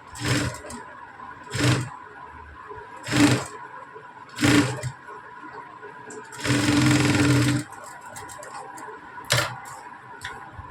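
A sewing machine stitching the wrong side of a leaf-model blouse sleeve, running in about half a dozen short, sharp bursts with one longer steady run in the middle, close and clear.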